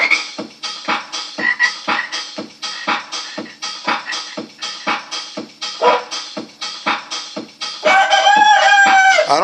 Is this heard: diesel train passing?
no